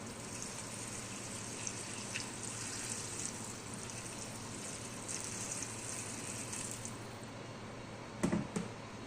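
Water is poured steadily into a pot of drumstick chicken curry, a continuous splashing stream heard close up with a brief knock near the end.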